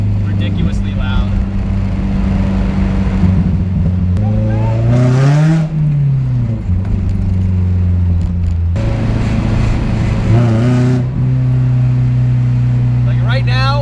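Drifted, slammed, boosted Mazda Miata with a loud exhaust, the engine revving hard in repeated swells with booming bass, close and very loud, with a person talking over it at times.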